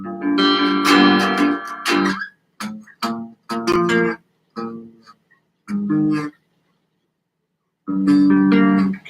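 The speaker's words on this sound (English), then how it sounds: "Now the bottom 4 string chords that sound something like this right here." Chords strummed on the bottom four strings of a guitar ring out in short bursts with pauses between, close and fairly loud, alone without talk.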